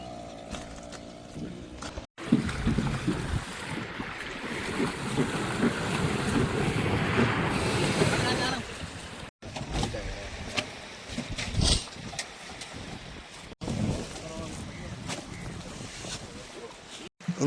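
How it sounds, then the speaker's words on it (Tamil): A boat on a reservoir approaches with a low motor drone under buffeting wind noise and water sounds, louder in the middle stretch, with people talking intermittently. "அடுத்த ஒரு போட் ஒன்று வருது பாருங்க"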